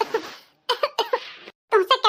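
A cartoon woman gives a series of short, close coughs in separate bursts with brief silent gaps between them.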